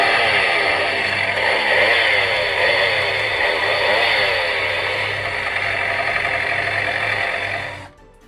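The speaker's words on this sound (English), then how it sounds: "I even have this chainsaw," A Halloween prop chainsaw in a home haunt display runs with a steady, loud buzzing motor drone lasting about eight seconds before cutting off abruptly, with no talk over it.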